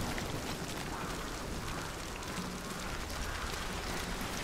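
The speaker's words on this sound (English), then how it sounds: "Can't hear you over the rain if you can." Rain in the video game Hunt: Showdown, a steady faint hiss of falling drops with no pauses and no voices over it.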